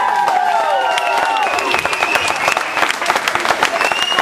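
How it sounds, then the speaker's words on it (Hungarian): Audience at a tribute concert applauding and cheering continuously after a band member is introduced, a dense wash of clapping with shouts and a guitar tone ringing over it. "Tapsoljuk meg!"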